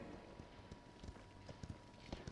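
Horse galloping in the Paladins video game, a quick series of hollow hoof thuds in an irregular running rhythm, fairly close and moderately loud over a soft background hum.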